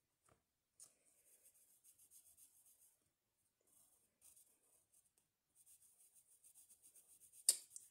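Pencil or marker drawing a character's face on paper, quiet scratchy strokes in short bursts with pauses, ending in a sharper tap near the close.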